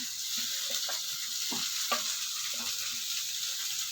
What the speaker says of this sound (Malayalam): നന്നായിട്ടൊരു വറവാണ് ചെയ്യുന്നത്.